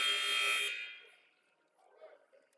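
A basketball game buzzer sounds at the end of a half in a men's community college game, a loud sustained electronic blare lasting under a second, then fading into faint background talk.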